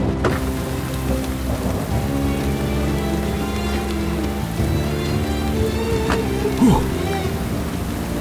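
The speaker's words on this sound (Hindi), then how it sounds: "बारिश बहुत तेज है" Heavy rain pours down steadily in a dense hiss, with a low rumble beneath it and a brief sharper sound near the end.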